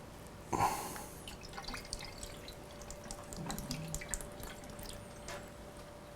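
Green coolant drains from the radiator of a Suzuki GSX-R750 motorcycle, a soft trickle and drip into a container, quiet and close after a brief initial splash, with no speech.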